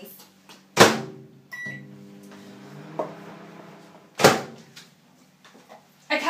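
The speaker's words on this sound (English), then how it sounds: "nuke it in your microwave for 30 seconds" A microwave hums steadily with door clunks and thumps, a bright beep near the start, and louder bangs as the door opens and shuts.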